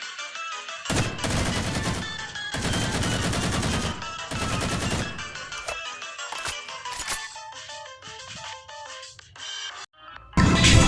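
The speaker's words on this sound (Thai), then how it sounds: "ยิงที่หัวดาเมจ67 ครับ เดี๋ยวเรามาลอง" Loud bursts of automatic gunfire from a video game weapon test, in several long sustained volleys separated by silences. Quieter clicking and tonal game effects follow, and a final burst comes at the end.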